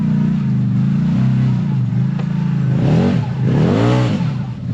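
A CFMOTO side-by-side with its front locker engaged churns along with a loud, continuous engine drone, the revs rising and falling in surges toward the end as it pulls through the terrain.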